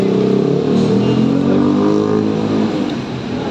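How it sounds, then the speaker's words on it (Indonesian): A tourist bus engine revs and accelerates at a bus terminal, a loud, close, continuous mid-pitched roar that swells and then eases slightly, with no talking. "Ada bus pariwisata"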